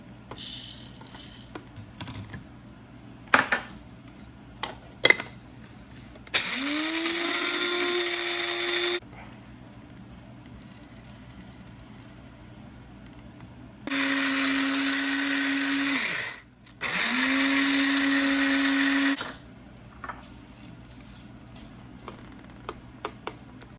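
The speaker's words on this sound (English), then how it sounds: "Okay, so I have a coffee grinder here." A coffee grinder grinding cooked rice into powder whirs loudly in three separate bursts, each a few seconds long, with quiet clicks and rustling between them.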